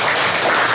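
Loud, dense clapping from a congregation at a worship gathering, a short continuous burst with no talk over it.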